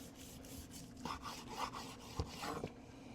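A knife cuts thin slices across the grain of a grilled medium-rare tri-tip steak, making soft close rasping strokes in a short quiet run with a small tap on the board, and nobody speaks.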